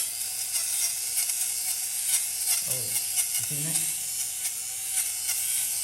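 A steady high-pitched electric buzzing hum with a faint scraping grind as an electric lint remover cuts tufted rug fibers, continuous throughout, while someone briefly speaks over it.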